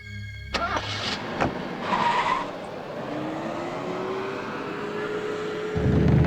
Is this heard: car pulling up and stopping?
yes